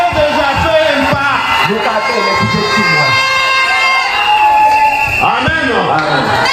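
A church congregation at a live Sunday worship service cheers and acclaims together, a loud, sustained swell of many voices with whoops and shouts that rises and falls throughout.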